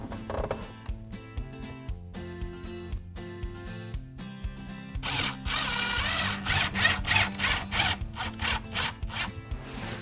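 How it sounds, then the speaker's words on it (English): Power drill driving a screw through a Fibo wall base profile into the nailing lip and wall, the motor whirring up in pulses before a longer, louder grinding run as the screw bites in, close and alone. "I'm going to put a second screw through the base profile now, into the nailing lip,"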